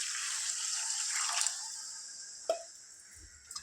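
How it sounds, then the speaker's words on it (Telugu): Water poured into a pan of raw prawn curry cooking on the stove, a steady close splashing and trickling pour for about a second and a half, then a few separate drips and plops. "నేనైతే ఒక హాఫ్ లీటర్ వాటర్ యాడ్ చేస్తాను ఫ్రెండ్స్"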